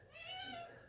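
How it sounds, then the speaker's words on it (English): A house cat gives a single short, fairly faint meow, a rising-and-falling cry under a second long. "My cat's like meowing down here trying to trip me"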